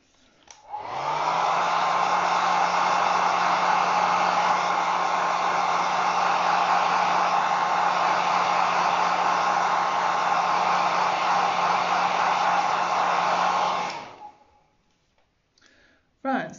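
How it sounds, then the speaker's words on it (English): A hair dryer runs steadily at close range for about thirteen seconds, quickly drying a second layer of paint on a slate coaster, then switches off into near silence. "I'm just going to now quickly blitz dry this for that second layer that we put down"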